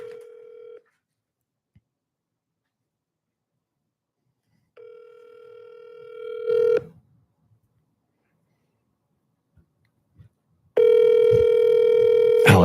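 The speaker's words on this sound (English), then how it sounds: "Come on, Alex, answer the phone." A telephone ringback tone sounds during an outgoing call: two steady, clear ring bursts separated by silence, followed by a louder, sustained tone near the end, with brief voice traces between the rings.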